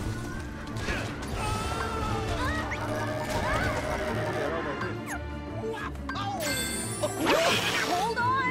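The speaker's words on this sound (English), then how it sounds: "Horses." Horses neigh and whinny in the Kingdom Hearts 3 video game, several high rising calls layered over mechanical clatter, creaks and hoof clip-clop, fairly steady and close.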